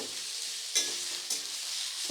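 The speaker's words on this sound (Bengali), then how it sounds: "পেঁয়াজটাকে সুন্দর ব্রাউন করে ভেজে নিতে হবে" Sliced onions fry in hot oil, browning for a chicken masala. A continuous close sizzle is broken by a few scraping stirs.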